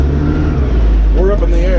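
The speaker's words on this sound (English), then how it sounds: "Let's see if this old Cummins wants some. Third gear." An old Cummins-powered truck engine revs in third gear, a loud low drone rising in pitch near the end as the engine climbs, with voices over it.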